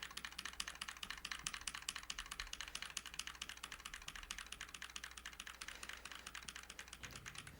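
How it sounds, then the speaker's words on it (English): Computer keyboard keys are pressed in a rapid, steady stream, alternating right arrow and backslash, during a speedrun finale demonstration; the tapping clatters continuously and fairly faintly, with no talking. "So for those of you that can kind of hear the keyboard, I'm just alternating between right arrow and backslash"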